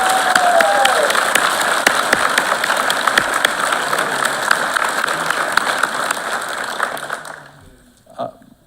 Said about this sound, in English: So if you could all join me in applauding all these people who brought you to McGeorge.